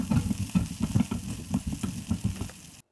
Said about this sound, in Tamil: ஒரு 10 சின்ன வெங்காயம் உரித்து வச்சுருக்கேன், அதை சேர்த்திக்கலாம். கூடவே 4-5 பல் பூண்டு, சின்ன துண்டு இஞ்சி, இந்த 3ஐயும் போட்டு நல்லா வதக்கிக்கலாம்